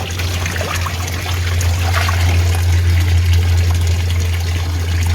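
Nutrient solution is poured into a hydroponic tank for growing pak choi and stirred, a loud, steady wash of trickling, splashing water over a constant low pump-like hum.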